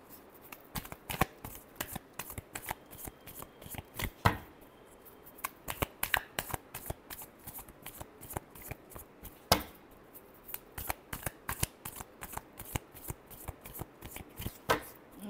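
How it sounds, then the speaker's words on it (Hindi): Tarot cards shuffled close by: a long run of quick, crisp riffling clicks that repeats in bursts with brief pauses between shuffles. "Last shuffle."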